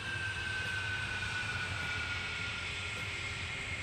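A Concorde jet in the game Transport Fever 2 produces a steady, continuous engine roar with a faint high whine, an even drone with no breaks and no talk.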